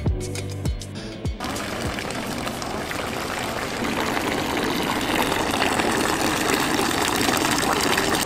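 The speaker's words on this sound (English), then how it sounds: "So this is one of the first fountains that we've seen. This is 72 degrees Celsius water." A hot mineral spring fountain in Karlovy Vary, Czechia, pours 72 °C water in a steady, close gushing splash after a few brief knocks at the start, with no talking.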